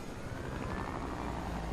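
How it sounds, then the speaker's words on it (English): A helicopter in the video game Fortnite drones with a steady rotor hum, loud and close. "They go get in the helicopter."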